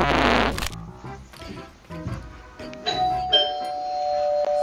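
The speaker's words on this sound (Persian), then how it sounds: "این زنگ در گذاشت." A loud burst opens, then a doorbell chime rings out, its tone lingering over quiet background noise.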